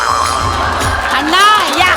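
An audience at a comedy show award ceremony cheers and whoops loudly for a couple of seconds, with excited shouting voices mixed into the crowd noise.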